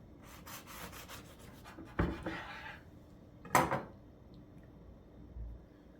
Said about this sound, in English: So we're going to go ahead and cut this thing open.